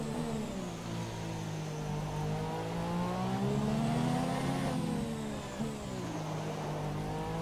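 Formula 1 race car engine in the F1 2017 racing game, a loud, steady high-pitched whine that rises and falls with revs, sustained close up through the whole stretch without talk.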